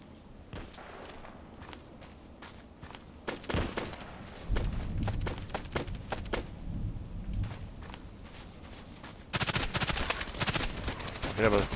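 An FN P90 submachine gun fires in Contract Wars in quick bursts and scattered shots, some close and some distant, mixed with thumping footsteps and a loud sustained stretch of firing near the end.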